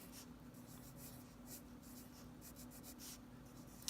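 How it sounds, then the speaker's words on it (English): Pen or pencil writing a question by hand on paper in neat letters, a steady soft scratching with short strokes throughout, close and quiet with no talking. "I'm going to go ahead and write it."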